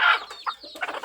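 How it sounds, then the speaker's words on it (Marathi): A broody country hen gives a few short, soft clucks close by, with brief pauses between the quiet calls. "फूड झालेली कोंबडी हे बघा"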